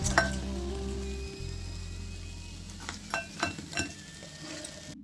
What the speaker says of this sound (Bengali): এইভাবে আপনারা সব সিঙ্গাড়াগুলো ভেজে নেবেন